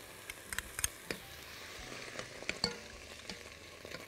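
Onion, tomato paste and garlic frying in a hot pot, a soft steady sizzle with scattered small pops and stirring clicks, close but fairly quiet.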